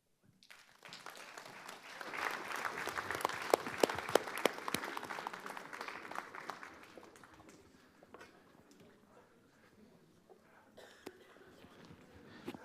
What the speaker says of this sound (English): Let's give a big, huge round of applause to all 7 teams